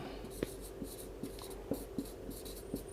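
A teacher writes a line on a board during a chemistry lecture, with soft scratchy strokes and light taps at an uneven pace in a quiet room, no speech.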